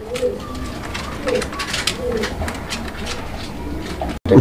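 Pigeons coo in low, repeated rolling calls, several birds close by at a pigeon market, with brief voices and a loud bump near the end.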